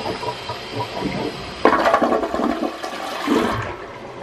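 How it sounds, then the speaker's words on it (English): A home toilet being cleaned of hard water stains with baking soda flushes with a sudden rushing gush of water that swirls and drains, close and loud with no talking. "Okay, let's flush it, see what happens."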